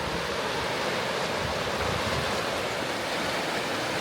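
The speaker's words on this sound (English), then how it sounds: "here's the weir. There's a fair bit of water coming down there" Floodwater in a river roars over a weir in a constant, loud, broadband rush that fills the whole stretch without pause, with no voices.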